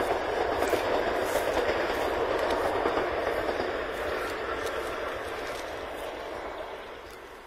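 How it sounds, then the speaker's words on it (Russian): A train rolls past on a railway line in the open, a steady loud broadband rumble with faint clickety-clack of wheels, slowly fading toward the end with no talk. "А вот и поезд. Это мы вовремя убрались."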